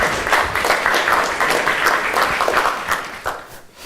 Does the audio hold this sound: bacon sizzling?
no